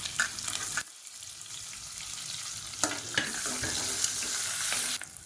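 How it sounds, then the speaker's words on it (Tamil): Sliced onions hit hot oil for biryani with a loud, continuous sizzle and crackle, with occasional stirring scrapes; no voices. "நீளமாக நறுக்குன வெங்காயம் சேர்த்துக்கலாம்"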